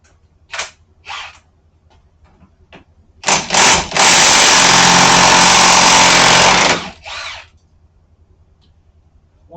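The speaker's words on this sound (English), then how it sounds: "Now we can switch to the big impact and the big socket," A big impact wrench with a large socket, used while pulling axles out, fires one loud, sustained hammering burst of about three and a half seconds. A few short clicks and clatters come before and after it.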